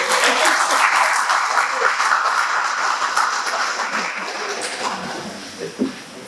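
Audience applause at a political meeting, a loud crowd of clapping hands that is strongest at the start and slowly thins out, with a few scattered claps and faint voices near the end.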